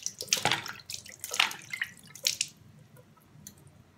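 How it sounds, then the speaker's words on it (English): Water poured over a closed eye during a homemade under-eye mask treatment splashes and drips in several close, irregular bursts, fading to light trickles and scattered drips, with no talking. "you just pour the water on your eye"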